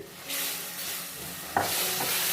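Peanut halwa mixture with vanilla essence and butter is stirred in a pan, a soft scraping and sizzling hiss that starts after a quiet moment and grows louder near the end.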